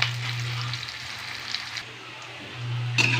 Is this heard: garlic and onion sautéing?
yes